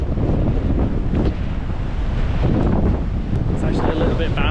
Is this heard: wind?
yes